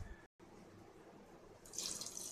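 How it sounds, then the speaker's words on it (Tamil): Soft, quiet background hush, then water starts pouring into a cooking vessel with a light splashing rush near the end, added while preparing Thiruvathirai kali. "இப்போ நம்ம தண்ணி ஆட் பண்ணிக்கலாம்."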